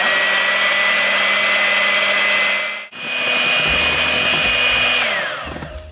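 An electric hand mixer whips egg whites with lemon juice and salt for angel food cake, a loud steady motor whine that cuts out briefly, then restarts and drops in pitch as the speed changes.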